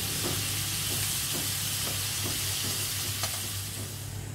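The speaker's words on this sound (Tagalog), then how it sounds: "From the word na afritada, fry, so kailangan natin prito muna yung chicken." Chicken pieces frying in a pan for Filipino chicken afritada: a loud, continuous sizzle with occasional stirring clatters, close and steady, no talking.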